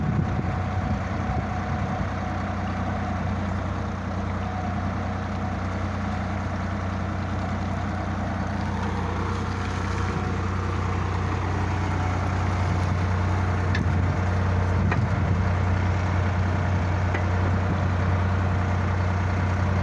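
A Sonalika tractor fitted with an agricultural backhoe runs with its engine idling. The low, steady drone continues without a break for twenty seconds, and no voices are heard.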